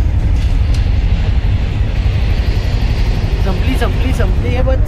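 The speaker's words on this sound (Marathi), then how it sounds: "ट्रेन आली इथं," A long train passing on a railway track close by, a loud continuous low rumble with rhythmic clatter, plus faint horn-like tones near the end, heard from roadside traffic.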